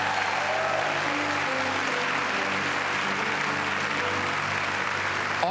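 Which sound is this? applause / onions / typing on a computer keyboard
applause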